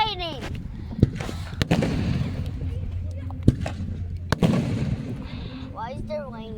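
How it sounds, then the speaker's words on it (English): Firecrackers exploding at a fireworks show in Dewitt, Nebraska, several sharp isolated bangs spaced a second or two apart, some loud and close, with people talking throughout. "those firecrackers are disturbing the atmosphere"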